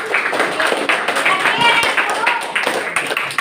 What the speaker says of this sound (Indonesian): Oke, bagus sekali, beri tepuk tangan.